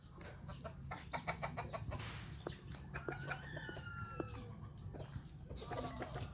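Chickens and stag roosters cluck and crow in a backyard flock, bursts of rapid clucking followed by drawn-out crowing calls over a steady background hiss, moderately distant and faint.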